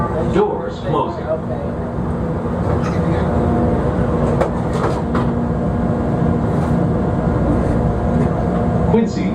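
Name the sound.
elevated train running on rails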